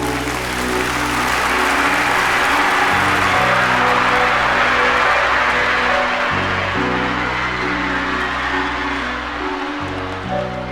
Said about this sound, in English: Could I have a big round of applause, please